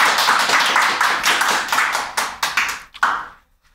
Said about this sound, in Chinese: 给你一些掌声